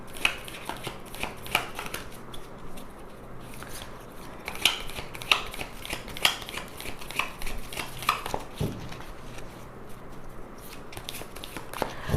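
Tarot cards are shuffled by hand in repeated riffling bursts: quick papery flutters and slaps, close and crisp, coming in uneven clusters with short pauses between them.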